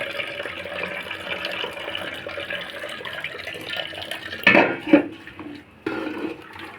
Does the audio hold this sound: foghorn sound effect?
no